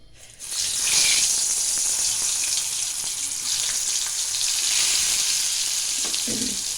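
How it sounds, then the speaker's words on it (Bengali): Sweet pumpkin pieces frying in hot oil, a steady close sizzle and crackle that swells after the first half second and holds loud throughout, with a faint clink near the end. "এটা ভেজে নিই"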